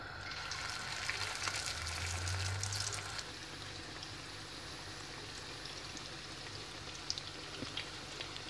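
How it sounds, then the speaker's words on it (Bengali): Tuna fish kebabs frying thin in hot oil in a home kitchen, a steady crackling sizzle throughout, louder and denser in the first few seconds, then settling into a continuous softer spatter with occasional pops. "আমি এপুট এপুট করে আমার বোড়াগুলোকে ভেজে নিচ্ছি"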